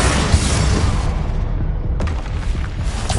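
Confringo spell explosion in Hogwarts Legacy on PS5, a loud deep booming blast with a rumbling tail and a second smaller impact partway through.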